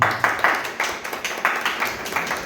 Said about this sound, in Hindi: एक बार तालियां तो बनती हैं।